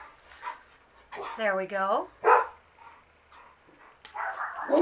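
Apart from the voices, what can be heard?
dog barking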